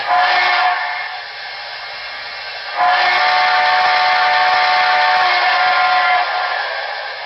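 A model steam locomotive's whistle sounds in two long, steady blasts, the second longer, over a constant background hiss.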